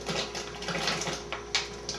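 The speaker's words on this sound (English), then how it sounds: "my water's boiling, so I'm going to go ahead and dump the sweet potato gnocchi in" Sweet potato gnocchi dumped into a pot of boiling water give a steady, busy watery bubbling and sloshing, with a couple of sharper splashy bursts near the end, close and moderately loud, with no talking.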